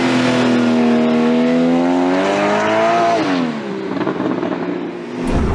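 A Porsche 718 Boxster GTS with its 2.5-litre flat-four engine revs up loudly and close by, the pitch climbing steadily before a gear change and a rougher, lower drone, then a sharp cutoff.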